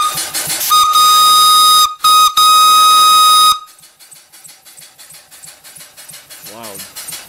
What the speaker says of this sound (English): Whistle, see if I can get that to work.